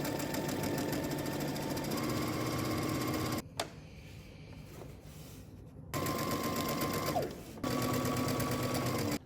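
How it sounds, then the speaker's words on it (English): A sewing machine stitches a dress seam in two loud bursts of rapid mechanical whirring, split by a roughly two-second pause and a short stop near the end, with no talking. "stitch across the top using 5/8 of an inch seam allowance, and while at the machine, we'll go ahead and understitch"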